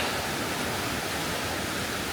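Water of the Soča river rushing through its small gorges, a dense, steady roar of churning flow, loud and close with no breaks and no voices.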